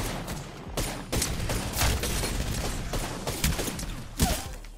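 Rapid bursts of gunfire in the battle royale shooter Apex Legends crackle in quick volleys, loud and close, with several sharp shots clustered over a few seconds.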